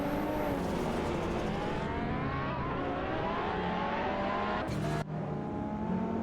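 A McLaren F1 GT and other race cars in a racing video game roar continuously at high revs, with engine pitch rising and shifting and a brief drop near the end.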